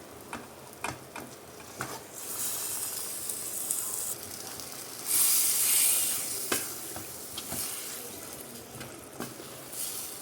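Chicken tipped into a pan of cooked onions sizzles loudly, with a burst of hissing as it lands and repeated stirring clicks and scrapes over a continuous frying crackle.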